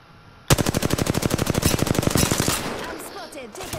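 Machine gun fire in a battle royale game, one loud sustained burst of rapid, evenly spaced shots lasting about two seconds, followed by fainter scattered shots and noise.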